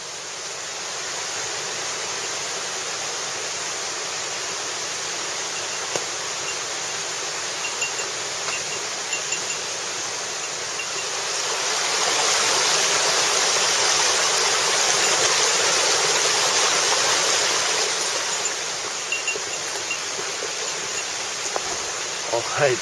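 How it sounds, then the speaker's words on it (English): Water bubbles and spills steadily from a small cistern overflowing on all sides in a forest valley, a constant rushing wash that swells louder for several seconds midway, with faint clicks of handling. "I've come up to a little bubbling cistern with water coming out on all sides"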